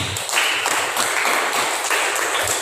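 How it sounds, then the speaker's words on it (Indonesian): A church congregation clapping during a Sunday service sermon, a dense, steady patter of many hands lasting a few seconds at moderate loudness, with no voices over it. "Tepuk tangan dulu."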